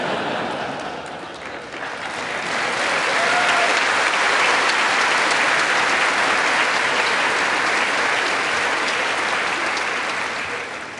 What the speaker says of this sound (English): I never get such nice applause from the Japanese Diet